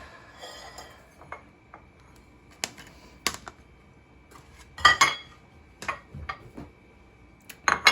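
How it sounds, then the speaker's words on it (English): Pan holders dropped in a home kitchen while making vegan black bean and corn enchiladas, heard as scattered light clatters and knocks with a sharper cluster of rattling hits near the middle and a few more at the end. "And I just dropped my pan holders."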